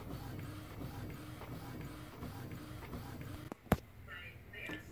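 Mechanical whirring and shuffling of an Epson XP-440 inkjet printer running a sublimation print, steady and close for most of the stretch, ending with a sharp clack and brief high whine as the print finishes.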